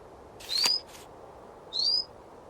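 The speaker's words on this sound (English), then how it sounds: "Rufous owl." Rufous owl call from the Wingspan Oceania game: two short, clear whistled notes, one near the start and one later, over a faint steady background with no talking.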